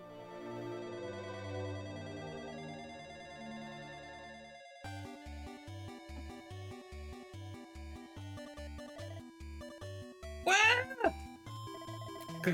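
A cat meows in Dragon Quest XI at Chateau Felix, a couple of short meows rising near the end over steady game music, with no talk.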